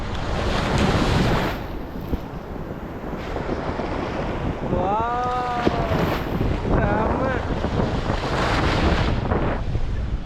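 Ocean waves break and wash on the shore at Thiruvanmiyur beach in Chennai, with loud surf rushing under heavy wind buffeting and brief voices in the background.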